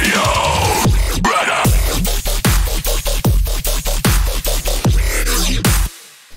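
A dubstep drum loop punches out heavy kicks and snares in a steady pattern and ends with a quick fill before cutting to near silence, loud and alone.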